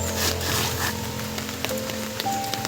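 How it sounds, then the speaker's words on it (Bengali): Steady rain patters on a pond, a soft continuous hiss with scattered drip accents and a low rumble underneath, no voices. "আর এখন বৃষ্টি বাদল চলছে ও বন্ধুরা"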